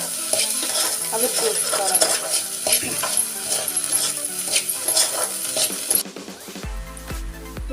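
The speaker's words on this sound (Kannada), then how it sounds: "ಇನ್ನೂ ಫ್ರೈ ಮಾಡಿಕೊಳ್ತಾರೆ" Fenugreek leaves and egg frying in a pan for a home-cooked methi egg fry, with steady sizzling and repeated clinks of a spoon stirring against the pan, close and loud, before the sizzle drops away near the end.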